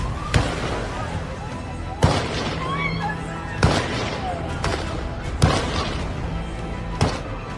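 Gunfire at Bondi Beach during a Hanukkah gathering, with two attackers firing on people on the beach; five sharp, loud shots ring out at spaced intervals of about one and a half seconds, with echoing noise between them.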